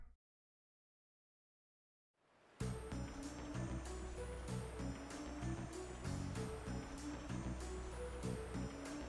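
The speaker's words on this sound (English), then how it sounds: "There they boarded a boat and made their way down the stream towards the city." A small boat glides down a stream toward a city in Trails of Cold Steel II. A steady wash of water and motor noise starts after a brief silence, with a faint rhythmic pulsing running through it and no talking.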